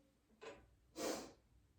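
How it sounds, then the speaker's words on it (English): A person with a case of the sniffles sniffing twice in a quiet room, a short sniff followed by a longer, stronger one, close and soft. "I have a bit of sniffles today, so I'm sorry if I keep sniffing"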